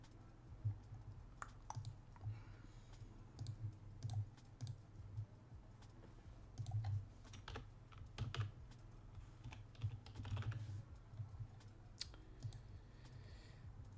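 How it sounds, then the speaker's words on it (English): Fingers type on a computer keyboard in quick irregular bursts of soft clicks, faint and close, over a low background hum. "I typed in your place of birth"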